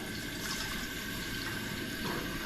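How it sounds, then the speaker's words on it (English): Water splashes and trickles steadily into a basic coffee maker, a continuous liquid pouring sound with faint background noise. "Pour some water in here."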